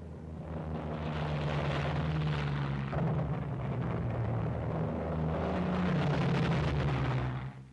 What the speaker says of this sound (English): Planes rendezvous preparatory to leaving for the target area. Hellcat fighters, Avenger torpedo planes, and Helldiver bombers.